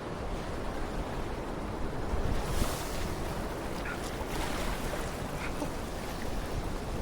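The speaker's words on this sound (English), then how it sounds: "There's a wave coming in." Stormy sea surging against rocks beside a damaged pier at Hartlepool, a continuous rough roar of surf with a heavier wave swelling near the middle, mixed with buffeting wind on the microphone.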